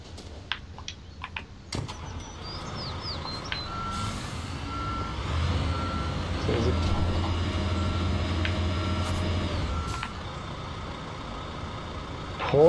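A construction truck in Construction Simulator Europe, working a hotel build site, sounds repeated reversing beeps, then a steady loud engine drone with air-brake hiss, heard alone without talk.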